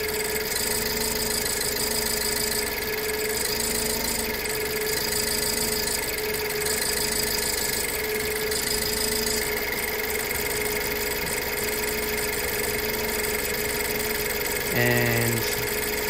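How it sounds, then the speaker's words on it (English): A 2008 BMW E90 engine idles around 700 to 800 rpm with a misfire from a faulty fuel injector, a steady close mechanical hum and whine with a faint uneven ticking, and a brief rising squeal near the end. "The idling is at 700, or about 800, really."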